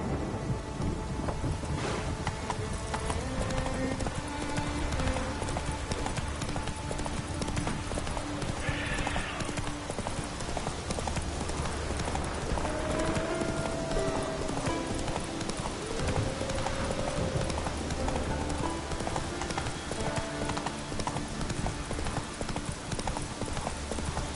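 Roach the horse galloping in The Witcher 3, steady rapid hoofbeats running the whole way through, mixed with rain and thunder, a brief whinny, and loud game music over everything.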